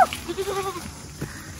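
A goat bleats in short wavering cries while a child pulls it along, fairly faint and outdoors, with a few soft rustles between calls.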